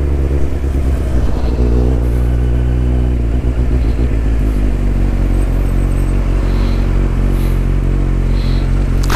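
A Mercedes-AMG car engine rumbles steadily close by with some revving, low and loud throughout, alongside mechanical clatter and road noise heard from a motorcycle.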